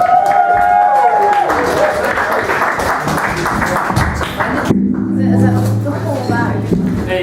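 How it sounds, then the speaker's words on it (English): Applause and clapping from an audience, with people talking over it. Toward the end a steady low hum joins in. "Give it a round of applause for both of our contestants."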